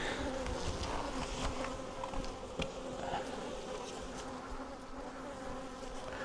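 A large mass of honeybees buzzes over full honey supers in an apiary, a dense continuous drone close to the ear with individual bees zipping past, steady and fairly loud without speech.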